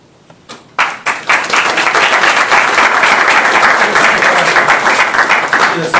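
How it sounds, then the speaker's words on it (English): Applause from a debate audience greeting the Lowell Sun editor at the podium: it starts with a few scattered claps, then swells after about a second into steady, dense clapping that holds to the end. "It's the first applause I've received in a long time since the Little League"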